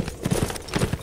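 Horse hooves clip-clop in a quick, steady rhythm of several close, crisp strikes in the video game A Blind Legend.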